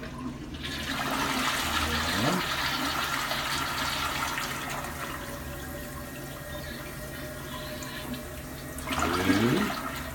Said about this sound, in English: Now this is to prove the point on the 3 flush toilet.